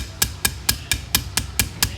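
Eight light, evenly spaced taps of a Teflon hammer on a Glock 23 sight, crisp and close, about four per second, with nothing else around them.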